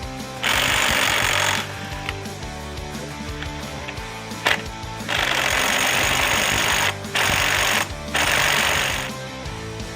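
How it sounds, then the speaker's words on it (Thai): Loud bursts of an LMlava LM240 cordless impact wrench hammering rapidly while loosening a nut, several seconds each, separated by short pauses with a lower mechanical hum underneath. "เดี๋ยวผมจะลองใช้สว่านทีนี้นะ สว่านบล็อกนี้ลองถอดดู"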